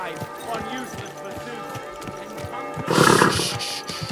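A horse in Kingdom Come Deliverance II whinnies loudly in a sharp burst, with rhythmic hoofbeats clopping throughout, while voices talk over the scene.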